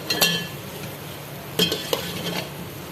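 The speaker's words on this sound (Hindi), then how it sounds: "अब जो है हम बॉयल चावल डालेंगे इसके अंदर" Boiled rice being stirred into melted sugar syrup for zarda, a sweet rice dish, with a few sharp clinks and scrapes of a spoon against the pot over a soft, steady background.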